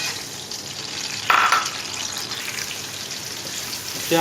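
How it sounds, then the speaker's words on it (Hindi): Onions fry in hot oil in a karahi, a steady, close crackling sizzle with a brief louder burst as they stir and settle. "अब इसके अंदर हम ऐड करेंगे प्याज"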